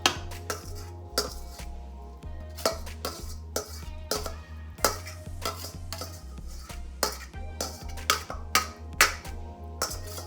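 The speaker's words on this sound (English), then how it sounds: "now I'm gonna go ahead and add the ground beef into the baking dish" Ground beef going into a baking dish of baked beans, a spoon knocking and scraping repeatedly against the dish in a steady irregular rhythm, close and clear with no talking.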